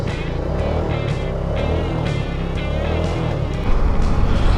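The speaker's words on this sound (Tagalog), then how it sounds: "Ito na pala yung ating legendary na motorsiklo" A Suzuki Smash motorcycle engine runs steadily nearby, a continuous loud mechanical drone with rough pulsing texture that swells slightly toward the end.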